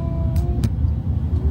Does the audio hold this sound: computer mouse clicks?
no